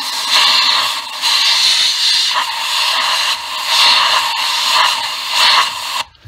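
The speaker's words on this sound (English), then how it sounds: "But I'm gonna blow out that carburetor cleaner." Aerosol carburetor cleaner blasting out a spark plug bore on a 3-valve Ford engine, a loud continuous hiss that surges and eases in several pulses before cutting off abruptly.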